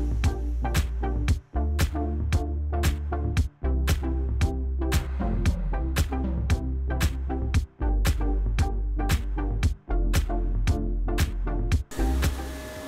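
An Avid CNC router with an upgraded 8.7 hp spindle cuts a workpiece in a dusty shop with no shroud, giving a loud, steady machining roar broken by regular sharp rhythmic pulses and a few brief drops as the tool pauses between passes.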